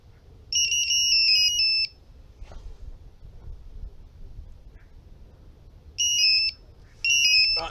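Electronic fishing bite alarm at a carp-fishing lake giving bursts of steady high-pitched beeping, about a second long, then again at the end, fairly close, with quiet outdoor ambience between.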